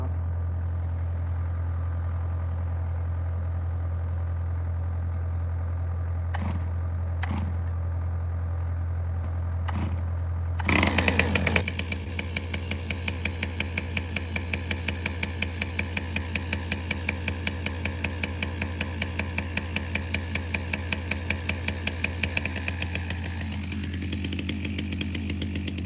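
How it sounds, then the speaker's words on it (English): A chainsaw used for splitting firewood clatters as it starts after a few sharp knocks. It then settles into a steady, rapid idle that runs on at moderate distance over a constant low hum, with no talking. "these chainsaws, you're supposed to let warm up 5 minutes before you run them"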